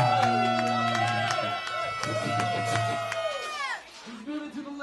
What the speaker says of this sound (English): I want you to give a big round of applause for the man.